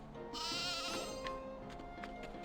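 Sheep bleat in a sheep pen in the video game Octopath Traveler 0, one long wavering bleat rising over a steady game music bed, then quieter bleats trailing off.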